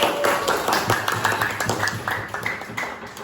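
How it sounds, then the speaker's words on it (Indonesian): Scattered hand claps from a small audience at a group discussion during a teacher mentoring session on classroom observation, a fairly steady patter of overlapping claps that thins out toward the end, with no talking. "Oke, tepuk tangan dong."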